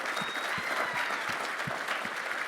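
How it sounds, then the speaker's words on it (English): A crowd gives warm, dense applause at a commercial business panel event, the clapping steady and close throughout. "give him a round of applause"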